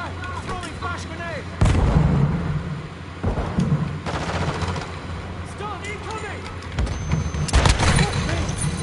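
Gunfire and artillery-like blasts in Call of Duty Modern Warfare 2 come in loud bursts over continuous game noise, with a voice talking intermittently.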